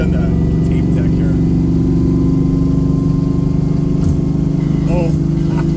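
Steady mechanical whine from the M22 Rock Crusher four-speed gearbox of a 1971 Chevy Camaro Z/28 with a 350 engine, heard from inside the car over a constant engine drone during a ride, with faint voices in the background.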